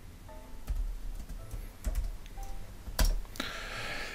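Sparse clicks of computer keyboard keys come in short, irregular bursts while code is typed, fairly close and quiet, with a slightly louder clack near the end and a soft hiss after.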